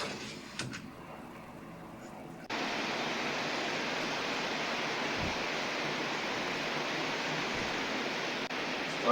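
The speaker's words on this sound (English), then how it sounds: "Waves roll slowly toward shore. At the busy beach." Waves at a busy beach in Virginia Beach roll slowly toward shore, a steady broadband wash of surf that jumps in loudness after a quieter opening and then holds constant for the rest of the clip.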